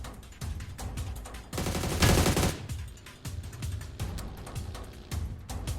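Rapid bursts of automatic gunfire rattle in the mobile battle royale game PUBG New State, loud and close, with a dense sustained volley in the middle and short repeated shots before and after.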